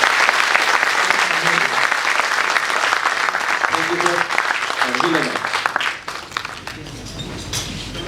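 Theatre audience applauding the actors after a play, dense sustained clapping filling the room for several seconds, with voices talking over it and the clapping thinning toward the end.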